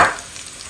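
Ginger and garlic frying in hot ghee in a karai over a low gas flame: a brief burst of close sizzling that quickly fades to a soft, steady hiss.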